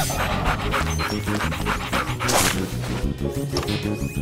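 A puppy pants in steady, rapid breaths, close and fairly loud, with a little cartoon background music underneath and no speech.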